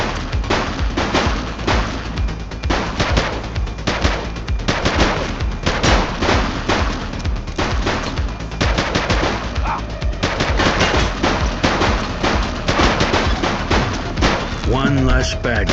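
Gunfire in The Precinct video game, a dense sustained firefight of rapid automatic bursts and heavy thuds, loud and near, with voices shouting under the shots.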